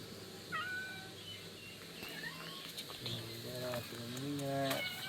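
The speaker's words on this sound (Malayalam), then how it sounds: "ഞങ്ങളുടെ ഇവിടുത്തെ പൂച്ചക്കുട്ടികൾ" Several kittens meow repeatedly in thin, rising and falling calls, overlapping one another over a steady background of chirping birds or insects.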